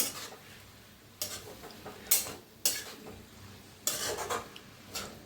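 Dill greens, shepu bhaji, stirred in a pan, with a low sizzle under bursts of spoon scraping and clanks that come in uneven strokes.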